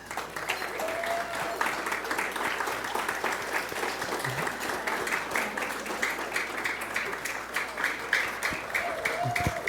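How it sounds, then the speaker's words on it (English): A dinner crowd applauds graduating fellows at a graduation dinner, a steady, dense round of clapping that holds evenly throughout. "we can all give them a round of applause"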